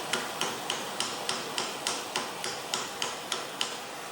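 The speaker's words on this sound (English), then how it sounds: "Now I just need to hit the right spot with the hammer" Steady metallic hammer strikes on a Zündapp KS 750 motorcycle part ring out about three times per second, evenly spaced, with nothing else going on.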